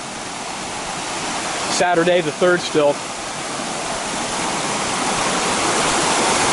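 A high river rushes steadily at a ford in Baxter State Park, a constant broad roar of flowing water, with a person briefly talking over it close by.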